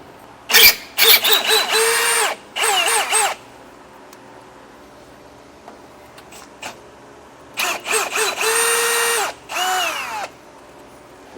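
Cordless power driver backing screws out of a travel trailer's underbelly at the frame rail: two bursts of whirring, rising and stopping, separated by several seconds of quiet, close and loud with no talking.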